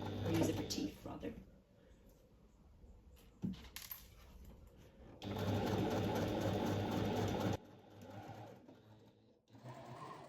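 Sewing machine stitching a seam along a stripe over zipper tape and zipper teeth, steady mechanical whirring in bursts with a long continuous run, while a person talks over it.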